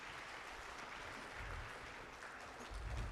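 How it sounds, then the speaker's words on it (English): An audience at a Bharatanatyam dance arangetram applauds, a steady wash of clapping heard faintly and at a distance, swelling slightly toward the end. "can we get another round of applause here"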